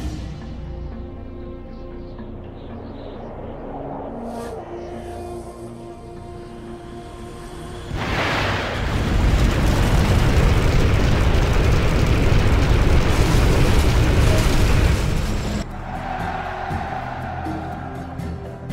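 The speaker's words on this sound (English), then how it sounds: "Napalm strike inbound." A napalm strike in the video game C&C Generals sets off a sustained roaring blast of fire and explosions that rumbles heavily for several seconds, preceded and followed by quieter battle noise.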